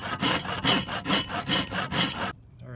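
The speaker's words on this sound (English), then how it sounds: "the next thing to do is to cut the lines" Steady back-and-forth strokes of a hand saw cutting through wood, about a dozen even rhythmic passes, close and loud, then it stops.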